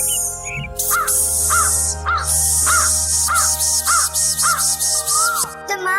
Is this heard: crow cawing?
yes